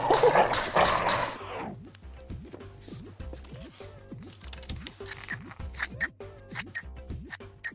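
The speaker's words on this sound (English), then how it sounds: "Now we can cut these shapes out, but be careful because scissors are sharp." Repeated snipping of scissors cutting shapes from paper, a steady series of short crisp cuts up close, with a rustle of handling at the start and soft music underneath.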